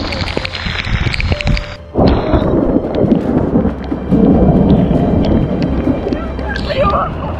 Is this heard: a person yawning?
no